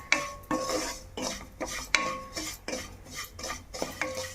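Semolina (rava) is dry-roasted in a pan while a spoon stirs it in regular strokes, each one a close metallic scrape and clink against the pan, with no talking.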